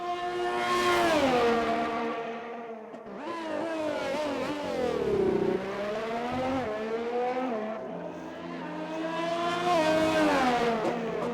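Formula-style race cars in a video game thunder around the Baku City circuit, engines screaming up and down through the revs in long sweeping rises and falls, loud and continuous with no voices.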